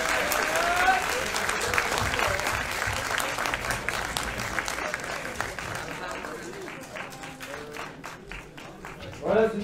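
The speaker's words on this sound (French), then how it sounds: "je pense que vous pouvez bien les applaudir." An audience at a circular-economy conference claps steadily for several seconds, a sustained wash of applause with some voices murmuring underneath.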